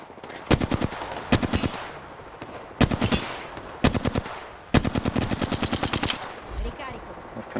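Rapid automatic gunfire from a multiplayer shooter video game, in several loud bursts of fast repeated shots separated by short pauses, with faint background noise between volleys.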